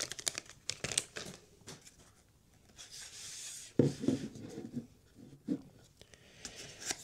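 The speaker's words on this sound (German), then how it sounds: "da können wir gleich mal die Plastiktüte wegnehmen" Quiet, intermittent crinkling and rustling of a plastic bag being removed from a trail camera, in short bursts with brief pauses between them, close up and without speech.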